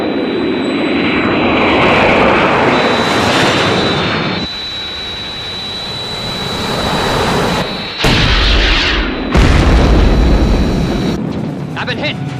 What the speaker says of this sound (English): I'm under attack from 3 unidentified aircraft and taking evasive action.